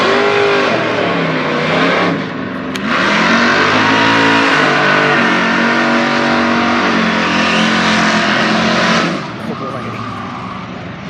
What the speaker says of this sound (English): Looks like a Chevelle, 69. Then a Dodge in the other lane.